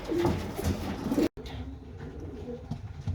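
Breeding pigeons coo in their breeding boxes, a steady low murmur of calls close by with a brief silent gap partway through, then softer cooing resumes.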